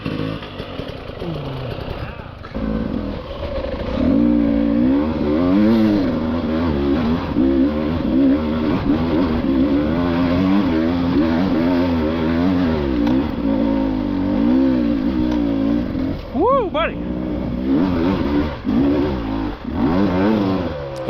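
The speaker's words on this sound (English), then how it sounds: "hear the sounds the bike is making." Beta 300RR Race Edition enduro motorcycle ridden off-road up a steep, greasy, rocky hill, its two-stroke engine loud and close, revving and bogging in repeated surges throughout with a sharp high rev spike near the end.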